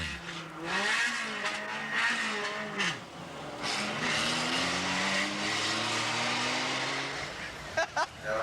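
A racing car roars around a race track, its engine note rising and falling through gear changes over a steady wash of track noise, with someone talking over much of it.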